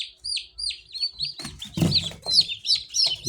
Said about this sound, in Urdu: یہ ریڈ کا بچہ ہے، ریڈ ٹرکی کا